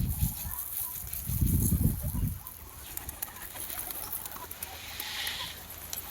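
Pigeons gathering on a rooftop as they are fed, soft wing flutters and bird sounds amid outdoor noise, with loud voices and rustling in the first seconds.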